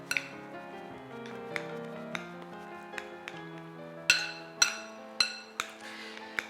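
Spiced minced beef is mixed with chopped bread slices in a bowl for beef kebabs, producing close, irregular metallic clinks and ringing pings of a utensil against the bowl that grow louder toward the end.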